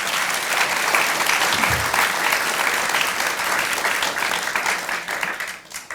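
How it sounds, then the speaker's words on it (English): Audience applause at the Nelson Arts Festival Pukapuka Talks, a steady, close burst of clapping from a seated crowd that holds for several seconds before tapering off. "Can you join me in giving them a round of applause?"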